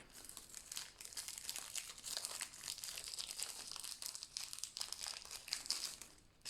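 A stick-on craft eye peeled off its backing while making a bee keyring, giving a steady close crinkling, crackling rustle that runs throughout, with no voices.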